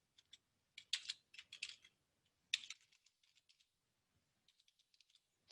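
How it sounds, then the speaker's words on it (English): Computer keyboard typing in short bursts of crisp, close key clicks with brief pauses between, quiet room with no talking. "Type your name, all caps."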